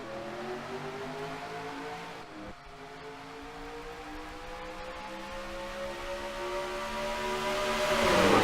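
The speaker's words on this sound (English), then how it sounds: "coming to the line, we are green flag racing here at the Homestead Miami Speedway" Race cars roar together at the green flag start at Homestead Miami Speedway, a steady droning engine wash holding throughout and swelling louder near the end as the pack passes.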